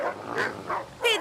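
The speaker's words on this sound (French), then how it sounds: "Et des chiens." A few short barks and yips ring out in quick succession, moderately close, with no talking.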